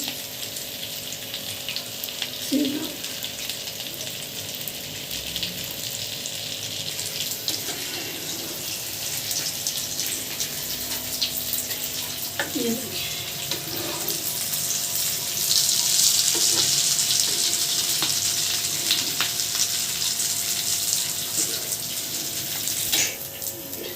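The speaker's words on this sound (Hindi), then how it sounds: "माशाल्लाह जी हमारी कुछ टिक्की फ्राई हो गई है, कबाब फ्राई हो गए हैं" Chicken shami kababs frying in oil, a steady, close, continuous sizzle and hiss that swells slightly partway through, with a few faint knocks and no clear talking.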